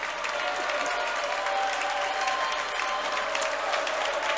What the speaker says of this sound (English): The crowd is into it.